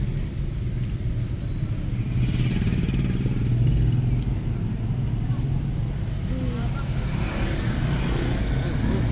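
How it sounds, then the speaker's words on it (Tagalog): Motorcycles and cars roll along a busy seaside boulevard in Dumaguete, a loud continuous engine rumble and road noise with passing vehicles swelling close by, while people talk nearby. "Very busy ang boulevard ng Dumaguete."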